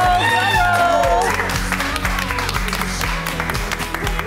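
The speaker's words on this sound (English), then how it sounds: "Big round of applause." A television studio audience applauds the Australian Miss Universe 2017 entrant, Olivia Rogers, as she comes on: a steady wash of clapping that holds at an even level throughout, mixed with music and voices.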